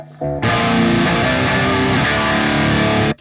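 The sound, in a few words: distorted electric guitar through EL84 amp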